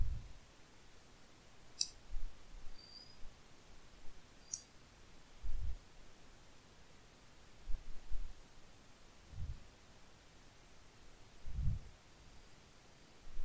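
Sparse, faint keystrokes on a computer keyboard while text is typed into a drawing program, isolated soft clicks and low taps spaced a few seconds apart over a quiet hiss.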